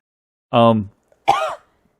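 Two short throat-clearing coughs, close and fairly loud, separated by a brief pause, with silence around them.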